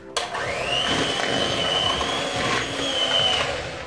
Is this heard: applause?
no